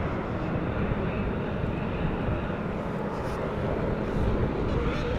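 An eleven-year-old Airbus A320 departing Amsterdam Schiphol, a dense, steady rumbling engine roar heard close and unbroken, with no voices.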